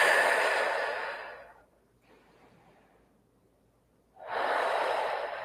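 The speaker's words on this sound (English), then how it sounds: "We'll take 2 deep breaths here." Slow, deep breaths during a yoga exercise, each a loud, close airy inhale or exhale, separated by a quiet gap in the middle, with no talking.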